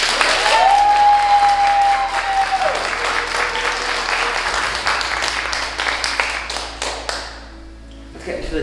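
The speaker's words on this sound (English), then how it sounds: "So give a round of applause." A crowd gives a loud round of applause, with a brief ringing tone near the start. The clapping stays full for several seconds, then gradually thins out and fades toward the end.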